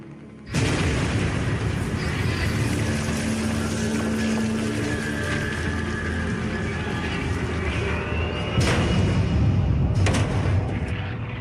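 Rumbling blasts from WWII airstrikes during the Falaise battle roll on continuously, heavy low booms with a sharp louder burst near the end and another later, like distant bombardment under drone.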